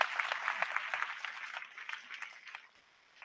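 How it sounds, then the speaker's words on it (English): Audience applause at a motivational talk at a university in Delhi, fairly faint and scattered claps that thin out and fade toward the end. "Can we have a huge round of applause on this?"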